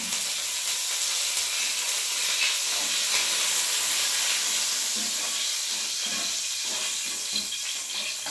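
Curry leaves and asafoetida sizzle in hot oil with chili, a steady broad hiss with faint crackles throughout, close and continuous.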